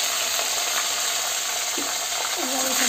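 Taro head frying in hot oil with salt and turmeric, a loud, continuous close sizzle with a faint scrape of stirring.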